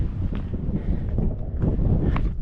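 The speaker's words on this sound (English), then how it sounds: "Oh, we got some wind on this side." Steady wind gusting across an exposed island hillside near a huge balanced boulder, buffeting the microphone in a continuous loud rumble with brief rustling swells.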